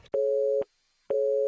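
A dead phone line in the video game Dread Weight gives two steady electronic tone pulses, each about half a second long, separated by a short silent gap. The tone is clean and isolated.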